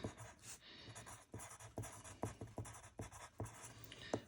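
A pen or pencil scratching out a math equation on paper during an algebra lesson on radians and coterminal angles, heard as soft, close strokes and taps in an irregular rhythm, with no speech.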